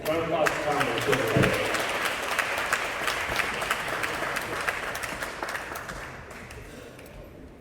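Audience applause for Tom at a retirement event at the Lakewood Y: dense, steady clapping from a crowd that stays loud and gradually thins toward the end, with voices mixed underneath.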